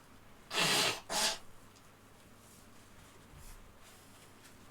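Two quick, forceful nasal bursts sound up close, one right after the other, against a quiet room background.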